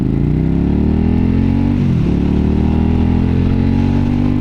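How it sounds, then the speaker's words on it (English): Ducati Multistrada motorcycle on the Pacific Coast Highway: a loud, continuous engine drone close by, its pitch dipping briefly partway through before settling back into a steady roar. "Ooh, that looked like a Ducati, what is it, a Multistrada, maybe?"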